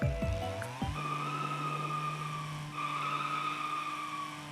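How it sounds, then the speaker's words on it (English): Tyres skid in the BeamNG.drive driving game, a long steady squeal that opens with a couple of short chirps and holds on with a faint pitch shift partway through. No voices are heard. "Next up, we have new tyre sounds."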